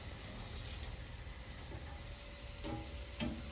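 Chicken cooks on a grill with a soft, steady sizzle and a few faint clicks as pieces are turned, quiet and continuous with no talking.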